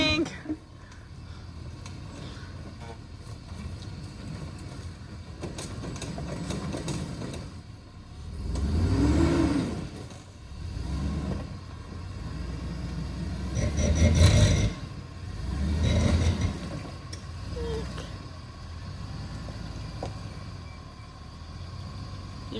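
Chevrolet Suburban engine revving in bursts as its wheels spin on a rough Ozarks road, several surging pulses over a steady rumble, with people talking throughout.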